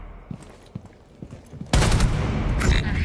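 Rainbow Six Siege firefight: a few faint, spaced thumps, then a sudden loud, sustained burst of close gunfire that runs to the end with dense, crackling shots.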